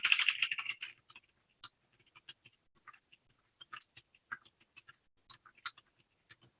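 Keystrokes on a computer keyboard while entering text in AutoCAD: a dense burst of rapid taps at the start, then sparse, irregular clicks spaced apart, close and fairly quiet with no talking.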